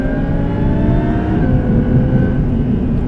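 An 800-horsepower supercharged Audi R8 engine roars loudly under acceleration, a dense continuous drone with rising tones, heard from inside the car with no talking.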